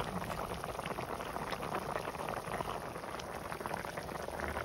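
A climbing perch curry with stink beans, green peas and turmeric simmers over medium heat, giving a soft continuous bubbling and sizzling, faint and close, with no voices.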